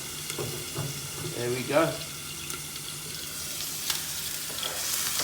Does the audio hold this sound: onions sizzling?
yes